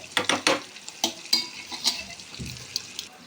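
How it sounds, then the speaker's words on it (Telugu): Pieces of chicken liver sizzle in hot oil while a utensil stirs them in the pan, with scraping clatters over a steady frying hiss, close up and with no voice. "నూనెలో ముక్క ఇలా వేగేదాకా జాగ్రత్త కలుపుకోవాలి"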